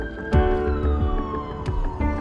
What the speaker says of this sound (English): Sounds like the ambulance is here.